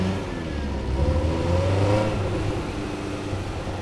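Dune buggy engine revving steadily as it accelerates during a night ride, a continuous mid-pitched roar with rising and falling pitch that stays loud and close throughout.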